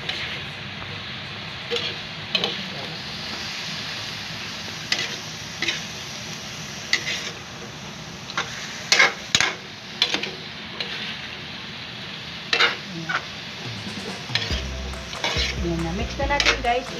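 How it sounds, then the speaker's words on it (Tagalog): Pork for dinuguan stirred and frying in a pan: a steady sizzle runs throughout, broken by repeated scraping and clinking stir strokes that grow more frequent toward the end, close and fairly loud, with no talking. "Tapos, mix natin siya para lumasa sa ating pork."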